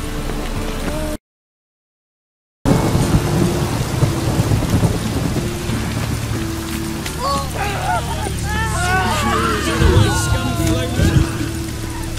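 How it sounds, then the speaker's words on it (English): Rain pours steadily with heavy thunder rumbling in the video game Witcher 3, a loud continuous downpour with deep rolling booms, while voices talk over it later on. "Lots of fuss over lots of rain."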